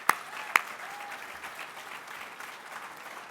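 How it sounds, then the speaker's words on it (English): A conference audience gives a round of applause, a couple of sharp nearby claps up front, then a soft, steady wash of clapping that stays faint and distant throughout. "So let's give Adam and Alan and Lauren and the whole team at SAF a round of applause."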